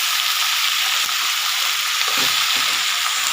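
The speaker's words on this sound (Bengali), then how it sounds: "আমি যে হাতে বানানো জিরে গুঁড়োটা করি সেটা দিয়ে ভালো করে আমি নেড়ে চেড়ে নেব" Vegetable curry being stirred in a pan with homemade cumin powder, giving a steady close sizzle with a few scraping stir strokes toward the end.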